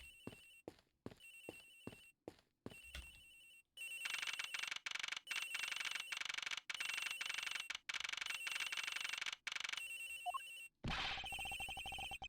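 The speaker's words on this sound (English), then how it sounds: "It sounds like the phone is up in the flight attendant's room." Telephone ringing in the Ace Attorney Investigations video game, a bright electronic ring in short bursts at first, then long repeated trills separated by brief gaps, loud and alone.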